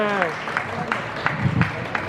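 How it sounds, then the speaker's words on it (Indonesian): Scattered, fairly faint hand claps at a fast-breaking gathering of a metal fan community at a bird market, a few rhythmic claps heard beneath someone talking. "Tepuk tangan dong buat Denny Growsik."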